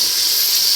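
Pork sautéing in a hot pan, a steady, bright sizzling hiss heard close up and loud throughout the brief moment.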